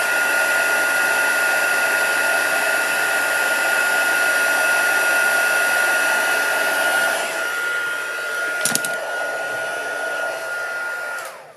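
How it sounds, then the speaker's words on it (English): A crafting heat tool blows hot air while a handmade self-closing treat box is assembled, giving a loud, close, steady whirring hiss with a constant whine that runs throughout, with a couple of small clicks near the end. "Turn my heat tool off."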